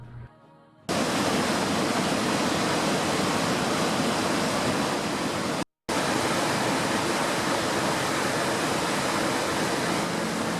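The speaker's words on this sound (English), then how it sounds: "It flows out of Yellowstone Lake for several miles before it descends some 109 feet over this upper falls" The Upper Falls of the Yellowstone River plunge about 109 feet, a loud, continuous roar of falling water heard up close, broken only by a brief cut.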